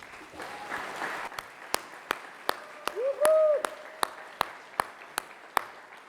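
Applause for a guest at an all-state jazz band event, a brief burst of crowd clapping that thins into sharp, evenly spaced single claps, with a short whistle-like tone in the middle.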